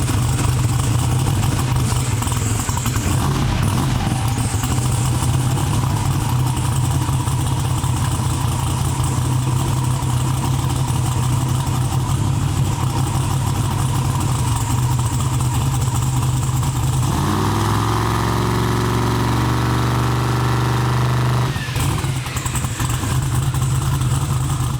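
A drag car engine held at wide open throttle against the trans brake, a loud, sustained near roar that drops briefly to a shifted, rougher tone before surging back.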